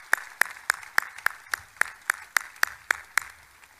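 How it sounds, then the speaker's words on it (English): Single pair of hands clapping at a steady, even rhythm, about a dozen sharp claps close by, at a military base redesignation ceremony honoring service members, with no voices. "Please give them another round of applause."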